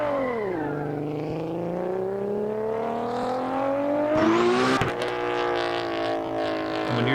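A loud race car engine from the Shutoko Revival Project driving game revs steadily higher through the gears, a sharp shift around the midpoint, then holds a sustained high-pitched roar close up.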